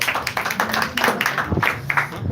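Audience clapping at a parliamentary-style student debate, a lively burst of many hands with distinct, closely spaced claps, loud and near, with faint voices mixed in underneath.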